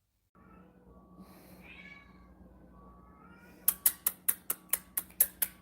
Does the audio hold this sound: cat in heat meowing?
yes